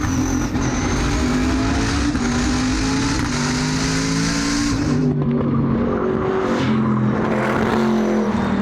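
A race car turns practice laps on a track, a loud close engine roaring and revving through gear changes, with the pitch rising and falling as it accelerates and brakes.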